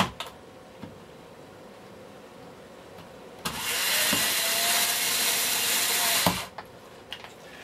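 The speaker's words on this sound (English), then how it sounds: "Now we're going to put the screw back into the junction box, just to secure it at the bottom. That one I will use the electric screwdriver for" Electric screwdriver whirs steadily for roughly three seconds while driving a Phillips screw into the junction box of a Hoover Senior 652A vacuum cleaner, with light clicks and handling knocks before and after.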